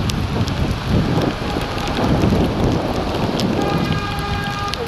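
Steady, heavy rain pours down without pause during a flood in China, a dense continuous hiss with a few faint low rumbles underneath.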